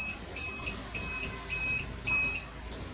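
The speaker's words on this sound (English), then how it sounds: "You hear that buzz from the inverter." A home-made inverter emitting a high-pitched electronic whine in four or five repeated bursts about half a second long, close and steady, over a faint background hiss.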